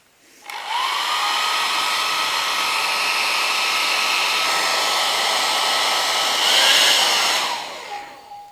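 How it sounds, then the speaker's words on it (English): A hairdryer switches on and blows steadily onto moist watercolour paper, a loud continuous whooshing whir with a faint tonal whine, briefly swelling in pitch and intensity before clicking off near the end. "Okay, so I take my hairdryer here."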